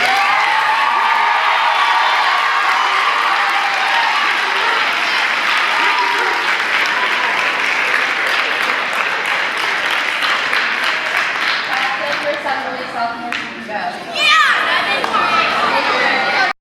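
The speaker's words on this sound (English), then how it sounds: "Let's give him one round of applause." A party crowd applauds and cheers for a birthday honoree, sustained loud clapping with scattered shouts that thins out near the end, where chatter and a brief whoop come through.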